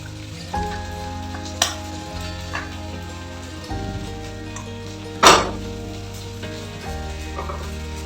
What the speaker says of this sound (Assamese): এতিয়া ভাজিম মই ভাতকেৰেলা আলু।